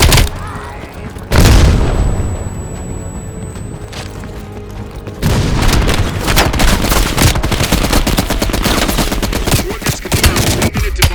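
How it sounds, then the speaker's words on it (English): Bombing-strike explosions in Call of Duty: Black Ops Cold War: a loud boom lands, the noise drops back, then a long roaring barrage of blasts and crackling fire continues at high volume. "Bombing strike imminent."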